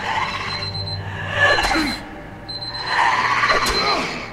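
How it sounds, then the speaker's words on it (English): An alarm sounds in The Wolf Among Us video game, two loud ringing bursts with a steady high tone, each swelling and fading over a few seconds. "The alarm caught me off guard"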